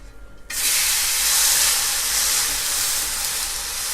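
Green gram dal uttapam dosa hitting the hot pan after flipping, a sudden loud hissing sizzle that bursts in after a quiet moment and holds steady, slowly easing.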